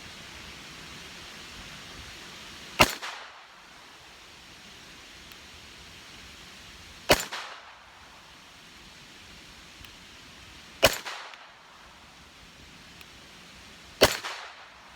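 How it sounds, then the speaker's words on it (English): Ruger SR22 .22 pistol firing CCI Mini-Mag rounds outdoors: four sharp, loud single shots spaced roughly four seconds apart over a steady background hiss. "CCI Mini-Mags through the Ruger SR22."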